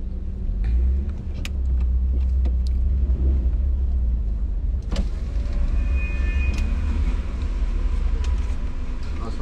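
Interior of a car cruising on a motorway in Pakistan: a steady low road rumble and engine drone fill the cabin continuously, with occasional small clicks and brief chirps over it.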